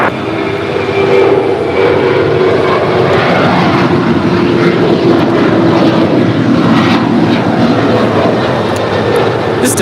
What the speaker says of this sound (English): This departure is United 1897 departing to Chicago. It's a 737-900ER.